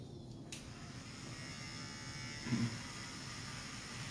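Electric hair clippers shaving a man's head indoors, a steady close buzzing hum that holds throughout, with a brief louder bump partway as the blade presses against the scalp.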